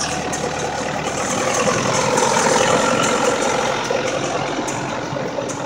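A Zetor tractor engine runs steadily and loudly at close range during hay mowing, a dense continuous rumble with no talk over it.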